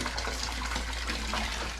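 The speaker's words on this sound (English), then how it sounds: "So you put a little bit of cold water in there?" Cold water poured into a pot of hot homemade açaí, a steady close splashing and trickling flow with no talk over it.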